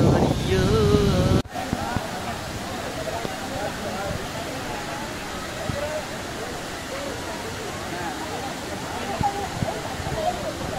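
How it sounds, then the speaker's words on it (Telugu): A large waterfall near Kodaikanal, heard as a steady broadband roar of falling water with wind buffeting, preceded by a brief loud burst of wind noise. "అక్కడ చెక్ పోస్ట్ దాటి కొంచెం ముందుకు రాగానే ఇక్కడ ఒక పెద్ద వాటర్ఫాల్ ఉంది."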